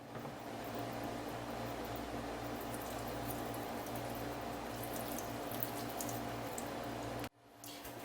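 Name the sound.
rinsing a PowerMac 7500 logic board with distilled water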